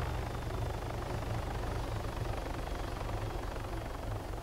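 Video game helicopter rotors thump and roar steadily as the craft lifts off, a dense, continuous engine drone with no one talking.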